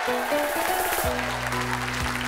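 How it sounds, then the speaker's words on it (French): Studio audience on a French television talk show applauding a guest's entrance, a dense burst of clapping mixed with music that fades after about a second, leaving tones and sustained music. "Je vous demande de l'applaudir."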